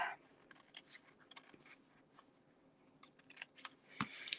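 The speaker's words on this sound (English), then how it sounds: "So we just cut this part off." Scissors cut through a paper gift box in quiet, close snips and rustles, with a clearer crisp snap near the end.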